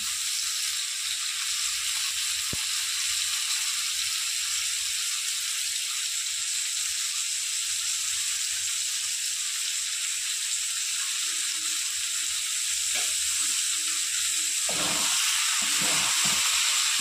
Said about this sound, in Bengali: ভালো করে নাড়িয়ে কষিয়ে নেব।